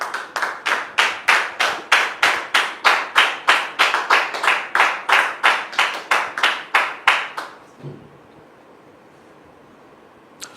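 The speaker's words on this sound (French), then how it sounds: "Sous vos applaudissements, s'il vous plaît." Studio audience at a French-language talk show clapping in a steady, rhythmic unison beat for about seven seconds, loud and close, then stopping abruptly into a quiet room.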